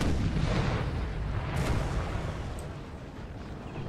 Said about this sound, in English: they're just gonna line up all these guns here and fire down and try to get that massive artillery